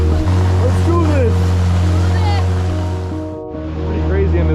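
Boat motoring upstream through shallow river rapids in Thailand, a steady loud engine drone with rushing water and splashing throughout, dipping briefly then surging again, with voices talking over it.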